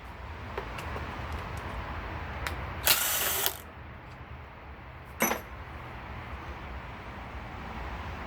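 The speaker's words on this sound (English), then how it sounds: "Let's get this 10mm bolt." A ratchet loosens a 10mm bolt during a D16Y7 engine teardown: two quick bursts of clicking, the first longer and louder, the second short, against a steady low background hum.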